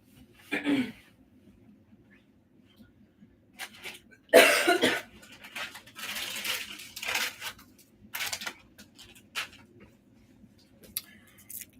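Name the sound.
coughing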